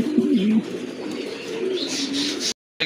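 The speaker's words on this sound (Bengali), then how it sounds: "এক জোড়া কবুতর মাশাআল্লাহ দেখার মতো কিন্তু এক জোড়া কবুতর, কালারফুল কবুতর" A pair of colorful Pakistani Naptha fancy pigeons coo at close range, with a few soft rolling coos and some lighter chirping before a brief dropout near the end.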